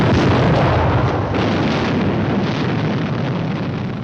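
A bomb explosion in a 1959 film as a sustained, loud, broadband roar that rumbles continuously for several seconds and only slowly eases, with no voices over it.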